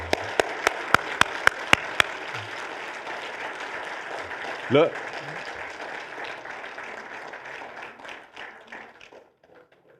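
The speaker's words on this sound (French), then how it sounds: "Hey, on applaudit." A church congregation applauds, opening with several sharp rhythmic claps and then settling into a sustained wash of clapping that fades out near the end, with a voice heard briefly partway through.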